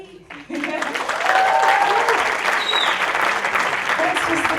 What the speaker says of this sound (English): Another big round of applause for the whole Shirkers team, please.